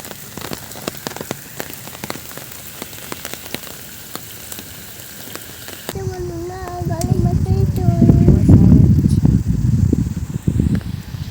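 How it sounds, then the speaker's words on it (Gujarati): Steady rain falls at a stop, pattering on a surface with scattered close drips, then swells into a heavier, louder roar in the second half as a voice speaks briefly. "અત્યારે જો સ્ટોપે ઊભા છીએ અને ચાલુ વરસાદ છે"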